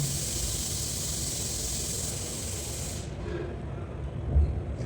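About 10 ml of cooking oil goes into a heated pan for a simple fish curry, giving a loud, steady broadband hiss for about three seconds that then cuts off abruptly into near quiet.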